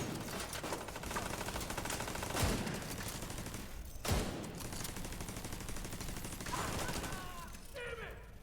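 Continuous rapid gunfire and turret fire in the video game The Division 2 at the Air & Space Museum, a dense unbroken barrage with a few sharper impacts and a faint voice underneath.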